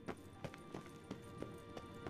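Horse hoofbeats clop along in a steady, rhythmic gallop in The Witcher 3: Wild Hunt video game, several evenly spaced thuds over a faint background hum, fairly distant and soft.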